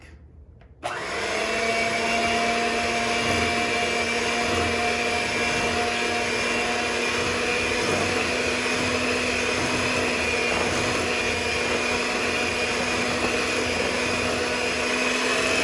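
An electric hand mixer starts abruptly and runs at a steady, loud whirring pitch, beating SKOR Bar cake batter with the last of the flour and milk, unbroken for the rest of the clip with no talk.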